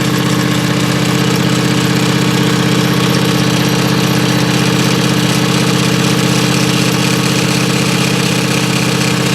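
A Husqvarna YTH24V54 lawn tractor engine runs loudly and steadily close by, with a constant droning hum and drive belt vibration throughout.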